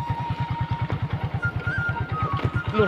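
A motorcycle engine runs close by with a fast, even thumping putter that holds a steady rhythm throughout, with light mechanical clatter on top.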